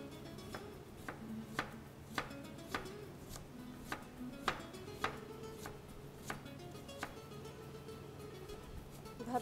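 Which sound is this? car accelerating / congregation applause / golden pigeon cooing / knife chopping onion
knife chopping onion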